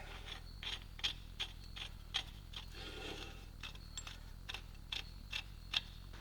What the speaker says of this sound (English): get our washer back on there and our nut.